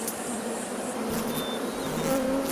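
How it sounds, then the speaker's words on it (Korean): Honeybees swarm and buzz around a tree hive in the Jirisan mountains, a steady, dense drone with some individual bees whining past up close, continuous throughout. "여름 내내 지리산을 누비며 여름 농사 잘 지었던 꿀벌들입니다."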